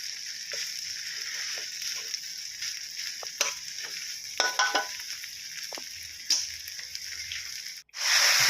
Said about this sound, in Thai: ผัดไปเรื่อยๆครับให้มีความหอมนะครับ